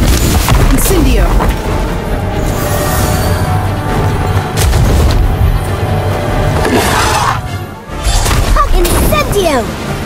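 Incendio fire spell cast in the game Harry Potter: Magic Awaken, during a Quidditch story battle: heavy booming blasts and whooshing bursts over a dense game soundscape, with a voice heard amid the effects.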